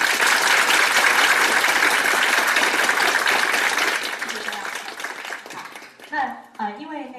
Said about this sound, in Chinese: 麻烦现在给洪兰老师一个掌声